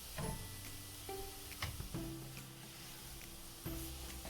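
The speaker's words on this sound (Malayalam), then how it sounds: "ക്യാബേജ്, അതേപോലെ തന്നെ ക്യാപ്സിക്കം, ക്യാരറ്റ് എല്ലാം കൂടി ഇതേപോലെ ഒന്ന് നന്നായി വഴറ്റിയെടുക്കുക." Chopped cabbage, capsicum and carrot sauté gently in a pan with a soft, quiet sizzle, broken by a few scraping stirs and light clinks of a spoon against the pan.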